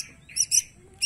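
Bird calls from a zebra dove (perkutut) feeding on a cricket beside a kutilang: three short, bright chirps in quick succession, close and fairly faint, with no talking.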